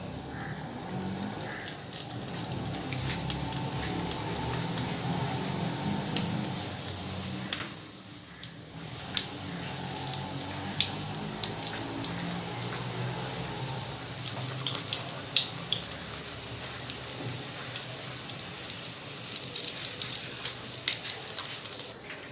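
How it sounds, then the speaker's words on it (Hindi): A chicken layer samosa deep frying in oil over a low flame, giving a steady, fine sizzling crackle that runs almost without a break, with one brief quieter dip partway through. "समोसे को हमेशा हल्की आंच पर, बिल्कुल ये देखिए मैंने हल्की कर दी आंच, और मैं उस पर फ्राई करूँगी"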